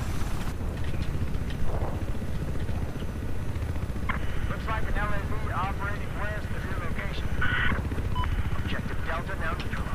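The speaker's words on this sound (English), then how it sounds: "Enemy heli inbound on C." Enemy helicopter in the Battlefield 4 shooter game, a constant, loud rotor and engine drone that runs the whole time under excited voices and radio-style callouts.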